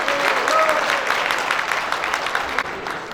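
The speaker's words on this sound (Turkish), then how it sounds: "Kendisine sizlerden bir alkış rica ediyorum arkadaşlar." Sustained applause from an audience at a TÜRMOB accountants' professional meeting in Turkey, a dense, steady wash of many hands clapping that stays loud throughout and eases slightly near the end.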